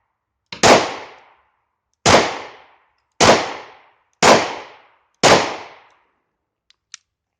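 Five loud, sharp pistol shots from a German P.08 Luger, fired one-handed at a steady pace roughly a second apart, each with a short decaying echo, followed by two faint metallic clicks.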